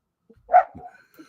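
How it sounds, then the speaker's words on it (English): A dog named in passing gives a single short bark, near and moderately loud, followed by a faint trailing whimper in an otherwise quiet room. "That dog just barked while they were driving by."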